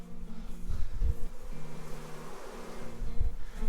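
Honeybees hum around a hive box in a home garden as the colony is readied for fall, a steady low drone close by that swells and fades, with no talking.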